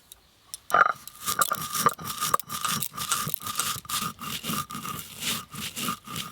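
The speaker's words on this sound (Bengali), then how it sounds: "ভাজা মশলাটাই আগে গুঁড়ো করে নিই" Roasted spices are ground for a cumin katla fish dish, with steady, rhythmic scraping and crunching strokes repeating about twice a second, close and alone after a brief quiet start.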